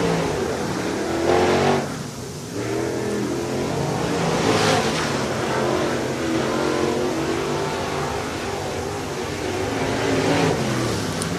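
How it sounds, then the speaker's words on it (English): Race cars roar around a dirt track at Swainsboro Raceway in Georgia, a dense, continuous engine drone with rising and falling revs as the cars pass. "So cars on track right now."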